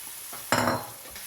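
Beef keema tipped into a pan of sauce and stirred, a brief soft scrape followed by a louder burst of sizzling and stirring that fades out within a moment, close by.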